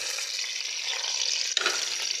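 Chopped onion sizzles steadily in hot ghee, a dense close frying hiss holding throughout with a brief disturbance near the end as it's stirred, no voices.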